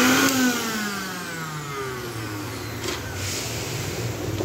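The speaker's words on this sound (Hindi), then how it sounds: "तो यहाँ पे देख सकते हैं हमारा मिक्सर जो है वो यहाँ पर काम कर रहा है अच्छे तरीके से।" A household mixer grinder runs steadily with a continuous motor whine and a rough churning drone, its pitch sliding slightly as it settles into a constant loud hum with no speech.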